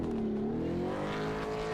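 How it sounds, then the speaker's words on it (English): Race car engine in a V8 Supercars sim racing game at Homestead Miami, a steady loud drone with rising harmonic pitch sweeping upward as the car accelerates, continuous through the short moment. "I heard an engine go."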